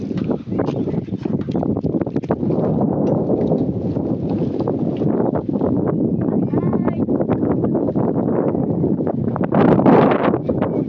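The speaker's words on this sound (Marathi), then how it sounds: "मस्त वारं सुटले." Steady wind rushes over a hillside village, a continuous broadband roar with gusts that swell near the end, captured close to the microphone with occasional buffeting.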